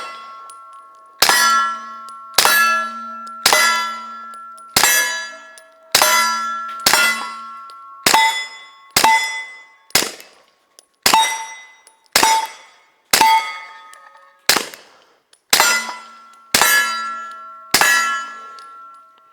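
An FN 509 Tactical pistol fires a full magazine at a range, about fifteen loud, sharp shots at a steady pace with a metallic ring after each, heard alone at close range.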